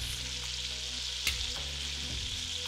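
Beef for a spicy stew fries in a pan with a steady, close sizzle throughout, broken by one brief scrape or stir partway through.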